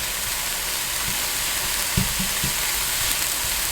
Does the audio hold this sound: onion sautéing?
yes